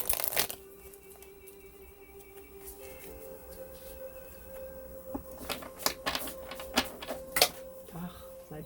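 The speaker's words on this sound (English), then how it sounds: "let's pull Sacred Destiny card for you." Oracle cards being shuffled and drawn from a deck during a love tarot reading, with soft papery riffles and slaps that build into a burst of crisp card flicks and drops near the end, beside a low steady hum.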